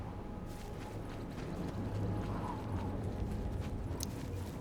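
Horse hooves clip-clopping in the video game The Elder Scrolls IV: Oblivion, a steady run of soft rhythmic footfalls over a low background rumble, with no talk.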